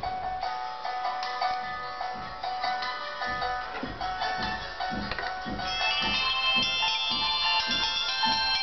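A JC35 Mini dual-SIM replica phone plays a bright, melodic startup ringtone when powered on, with steady chiming tones over a soft rhythmic pulse that grows fuller toward the end, close and alone.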